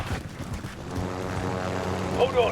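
A helicopter in Call of Duty Warzone gives a steady whirring rotor drone that runs close and loud through the whole moment, with a player talking over it.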